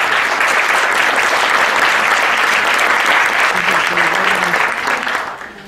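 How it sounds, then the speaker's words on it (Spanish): Audience at a poetry recital applauding steadily, a dense, loud wash of clapping that holds for several seconds before tapering off at the end. "Les pido un fuerte aplauso."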